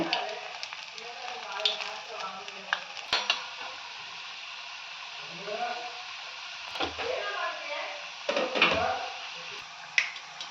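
Medhu vada, urad dal fritters, frying in oil on a low flame, a continuous gentle hiss and crackle close by, with occasional utensil clinks and a voice talking over it.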